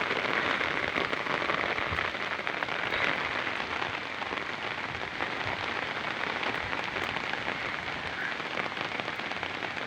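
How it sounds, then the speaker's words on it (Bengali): Heavy rain pours down steadily outdoors in a flooded area, a dense, even hiss of drops striking surfaces, loud and continuous throughout. "চারিদিকে জলে ভাসছে, আবার বৃষ্টি"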